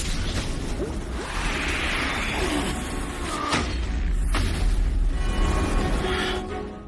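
A heavy, sustained roaring blast with rushing whooshes and crackling debris, like a large explosion tearing something apart, loud and close throughout.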